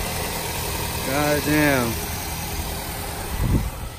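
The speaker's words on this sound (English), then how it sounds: "We got a running car." A Nissan Sentra runs at idle after an engine swap, a steady low mechanical hum throughout, with someone briefly talking over it midway.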